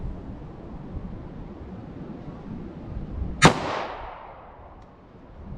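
A single .40 S&W gunshot from a Taurus G2C short-barrel pistol firing FMJ or lead round-nose ammunition, one sharp crack with a brief decaying echo over steady outdoor background noise.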